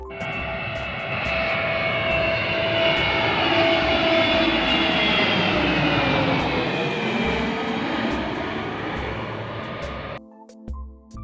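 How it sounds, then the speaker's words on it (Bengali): An Air Force plane flies low overhead near the Chittagong Boat Club. A loud, sustained engine roar swells as it passes above, then fades and cuts off abruptly near the end. "আপনাদের ঠিক মাথার উপর দিয়ে উড়ে যাচ্ছে বিমান বাহিনীর"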